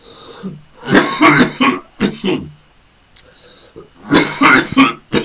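Several harsh coughs and throaty clearing noises come in bursts close to the microphone, separated by a short quiet gap.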